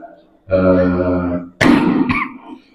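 One voiced, throaty burst is followed by a sharp, harsh cough and a short rasping tail, close and fairly loud.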